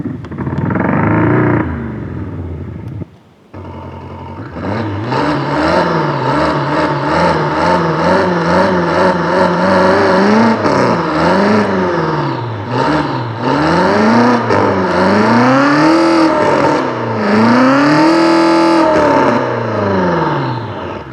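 A Mercedes-AMG G63 engine with a Stage 1 tune revs up and down repeatedly with rising and falling pitch, the exhaust crackling, popping and burbling loudly between revs.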